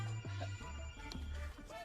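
A mobile phone rings faintly with a warbling electronic tone repeating in short pulses over a low background hum.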